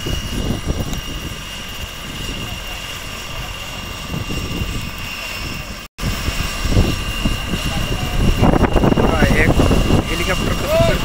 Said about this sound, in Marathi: हेलिकॉप्टर कसं करते आणि वरती कसं उडणार आहे